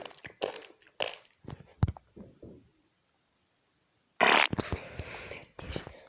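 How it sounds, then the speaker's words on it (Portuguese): Comic fart noises from a fart-sound video game, several bursty blasts of varying length sounding near and loud, separated by brief silences, with one longer sputtering burst after a pause and talk around them. "Que bosta de peiditos que estão aí a dar."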